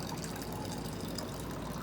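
Beer pours steadily from a tapped keg into a glass, a continuous close hissing, trickling flow with no pauses and no voices.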